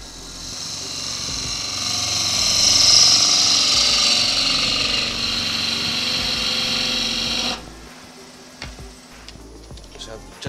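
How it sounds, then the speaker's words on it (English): An ash wood vase spins on a lathe while a spindle gouge cuts it, giving a steady, loud hissing shear that runs for about seven seconds. It then stops abruptly, leaving quieter workshop sounds and a few faint clicks. "So just pick up a little spindle gouge and just tease that wood away."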